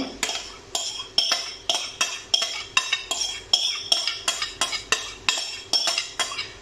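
Mango puree and cream being mixed in a bowl for a mango pie, a utensil clinking against the bowl in a steady, regular rhythm of about two strokes per second, close and crisp with no voices.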